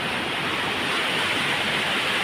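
Sea waves washing in at Strand beach on a sunny day, a steady hiss of surf, fairly close, with no voices.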